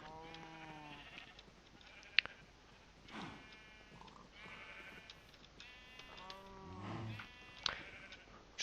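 Farm animals in the Minecraft video game, a modded survival farm, low mooing and bleating calls repeat several times at moderate volume, a few sharp clicks between them, with no talking.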